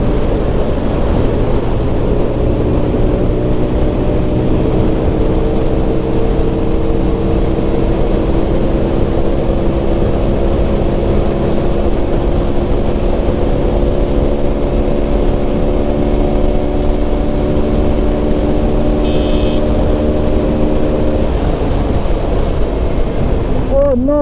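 A TVS Apache RTR 160 motorcycle rides at high speed on a long road trip, its engine drone steady and rising slightly in pitch beneath constant heavy wind roar.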